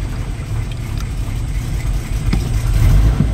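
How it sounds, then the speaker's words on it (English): A 1947 Bentley Mk VI engine turns over and settles into a low, steady idle that grows slightly louder toward the end, close by with no talk. "So let me start her up."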